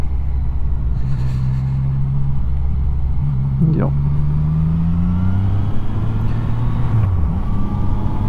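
A motorcycle engine drones steadily while riding on a touring trip in the Ardennes, its pitch rising and dropping through gear changes. The engine is loud and close throughout, and a voice speaks briefly.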